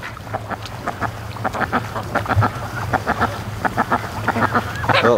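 Ducks quacking on a lake in the afternoon, a steady run of repeated nasal calls from several birds close by, with a low wind rumble underneath and no talking.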